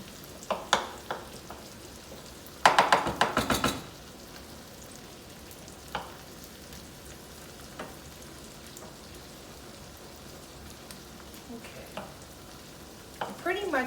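Finely chopped mushrooms cook in a pan for mushroom gravy, a steady soft sizzle under occasional stirring clatter with a brief burst of louder scraping, heard alone without talk.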